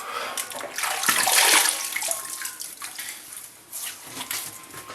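Water splashes close by as soap is washed off a freshly shaved face, irregular bursts of sloshing and dripping that swell, fade and return, with no speech.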